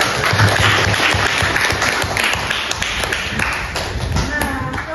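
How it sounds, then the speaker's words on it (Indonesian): A classroom of students applauds a classmate, a burst of fast, uneven clapping from many hands with voices mixed in, loud and close, fading slightly toward the end. "Berikan tepuk tangan pada dia dulu."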